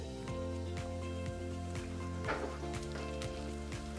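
Onions and celery cooking in a soup pot over medium-low heat give off a steady, gentle sizzle with occasional light stirring clinks, continuous and close, with no voices.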